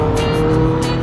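Big motorcycles in a group roll past on a hilly mountain road, a steady loud engine drone with a couple of brief swells as bikes go by close.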